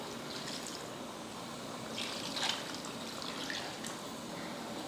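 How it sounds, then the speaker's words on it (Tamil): Water pours steadily into a pot of bitter gourd curry, a soft continuous splashing trickle at low volume with no voices. "இப்போ குழம்புக்கு தேவையான தண்ணி ஊற்றிடுவோம்"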